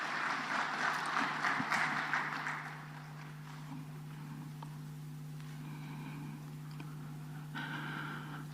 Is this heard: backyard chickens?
no